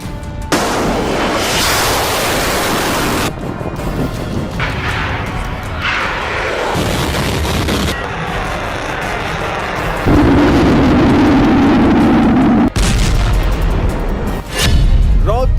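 Russian missile strikes exploding in Ukraine: a loud, continuous barrage of heavy booms and blasts with rolling rumble, overlapping impacts and a sustained roaring burst near the end.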